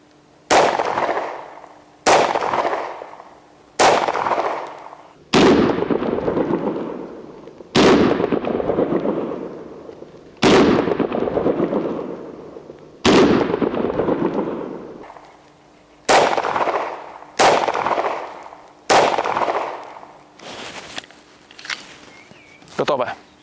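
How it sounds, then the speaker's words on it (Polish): Handgun shots at an outdoor shooting range, about a dozen sharp, loud reports fired one at a time at irregular intervals of one to three seconds, each followed by a short decaying echo. "dwa strzały skrewiłem, bo za szybko strzeliłem"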